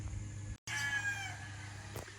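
A Sweater-line gamefowl rooster on a farm lets out one faint crow after a brief pause, a drawn-out, wavering call over steady background hum.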